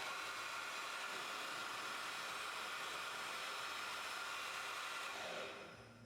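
A GHD Helios hair dryer on its second heat setting with the fan at full speed gives a steady loud rushing whoosh, then winds down slightly at the end.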